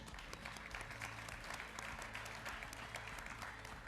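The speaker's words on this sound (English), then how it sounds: "And a round of applause, please." A crowd at the MXGP awards ceremony in Darwin, Australia applauds in a steady, sustained burst of clapping, fairly distant and faint, with no voices over it.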